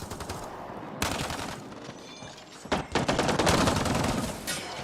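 Rapid automatic gunfire from the video game Mass Effect: Andromeda comes in loud bursts, with a sharp volley at one second and a denser, sustained barrage from about three seconds on.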